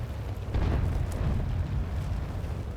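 Tank cannon fire in a video game: deep, booming blasts of blind shots roll into one another, with a heavy, sustained low rumble throughout.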